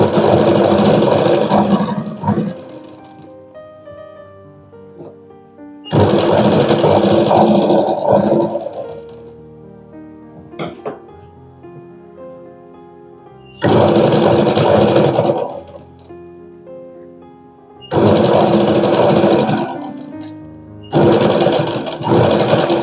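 A sewing machine stitches the neckline of a princess-cut blouse in loud, close bursts of rapid whirring. Several runs of a few seconds each are separated by quiet pauses and a couple of very short taps.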